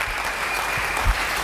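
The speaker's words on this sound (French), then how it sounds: "Acclamons très fort." An audience at a church sermon applauds with dense, continuous clapping that holds steady throughout, with a few heavier thumps mixed in.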